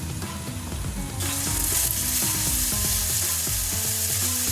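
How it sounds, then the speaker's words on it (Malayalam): Tomatoes sautéing in a pan, a loud steady sizzle with a surge in hiss partway through, layered over continuous music with no talking. "നല്ലോണം ഒന്ന് വഴറ്റി കൊടുത്ത് തക്കാളി വഴന്ന് വരുന്നത് വരെ"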